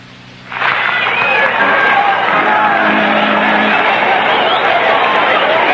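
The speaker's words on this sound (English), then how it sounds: "And the big crowd settling back now after the 7th inning stretch." A big baseball crowd at a Mets versus Padres game swells into a loud, steady roar as fans settle back after the seventh-inning stretch, filling the stadium without pause.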